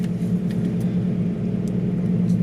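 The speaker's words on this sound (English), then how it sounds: "that air intake sounds good" A 2008 Ford Mustang with aftermarket sensors and an aftermarket air intake idles at high RPM before fully warming up, giving a steady, close, continuous low engine rumble with an even hum and no breaks.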